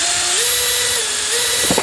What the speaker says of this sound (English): Got my drill bit here, so first gonna drill a small hole.